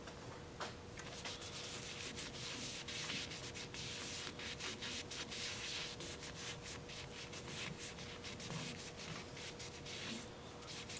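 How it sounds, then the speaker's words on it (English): Steady rubbing and rasping of a power sander working over paper birch wood, continuous and close, with a faint constant tone underneath. "sander that I like to use, just to kind of smooth them out but leave the texture"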